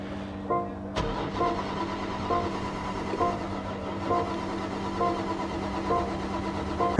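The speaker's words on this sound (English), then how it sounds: "Right, I'm going to try start it." A 2024 BMW G82 M4 Competition being cranked with a booster, its starter turning over in short repeated bursts about every second without firing, heard close over a steady background hum.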